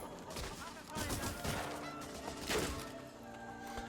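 Gunfire in the World War II shooter Medal of Honor Frontline, with repeated shots and bursts running through a dense, busy game mix at steady loudness, with sharper cracks around the middle and speech-like voices mixed in.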